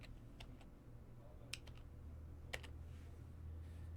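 Soft, sparse key clicks of typing on a computer keyboard, faint and close, with a few sharper taps standing out against a low background hum.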